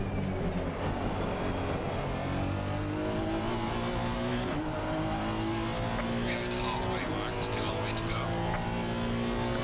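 Race car engine in the ACC racing video game, a Honda around a circuit, braking and turning in, a steady loud engine drone with shifting tones and some tire noise, a voice talking over it throughout.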